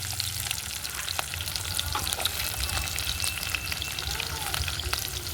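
Tempering seeds, onions and curry leaves fry on a wood-fired stove with a dense, steady sizzle close by, broken by occasional stirring knocks and crackles, with no talking.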